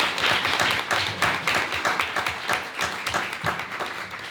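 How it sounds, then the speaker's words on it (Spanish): Applause for Ricardo at a book presentation and debate at the Ateneo de Madrid, a dense crowd clapping steadily and fairly loudly throughout, gradually thinning toward the end. "aplauso para Ricardo"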